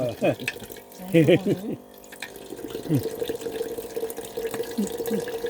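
A small water fountain dispenser lets water run and trickle in an uneven splashing stream. People talk over it in the foreground.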